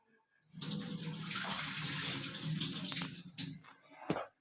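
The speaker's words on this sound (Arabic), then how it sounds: "ثانيه واحده بس اصفي الميه اللي فيه" Water is drained from cooked fava beans in a kitchen, a continuous close pouring gush lasting a few seconds, then a few trickles and a clatter as the pot is set down.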